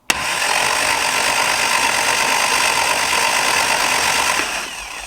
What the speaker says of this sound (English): we're going to swing the motor to see if we can obtain oil pressure